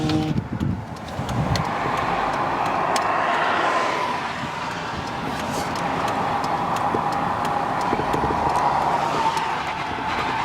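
A used vehicle driving in four-wheel drive, its steady engine and tire rumble holding loud and continuous throughout, with a brief clatter near the start and no talk.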